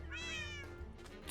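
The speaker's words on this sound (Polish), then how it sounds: "Ewidentnie tu są koty." A Minecraft cat gives one clear, rising-and-falling meow, fairly faint and close, followed by quiet game background and a sudden short noise at the end.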